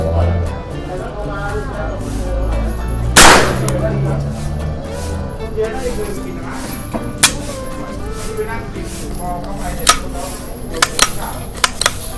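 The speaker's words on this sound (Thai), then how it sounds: "ยิงจบ 5 นัดนะฮะ" A Magnum Research MLR-1722 SwitchBolt rimfire rifle fires one sharp close shot early on, followed by lighter clanks and clicks of handling at a shooting range.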